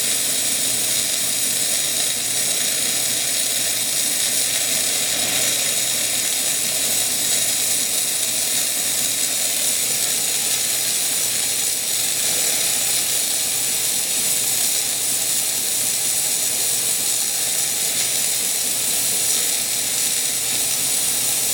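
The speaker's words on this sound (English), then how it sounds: "See, we get nice strong steam." A Jura E8 coffee machine, freshly serviced, drives its steam wand into a milk portion, giving a strong, continuous loud hiss with a faint mechanical rattle underneath, unbroken from start to finish.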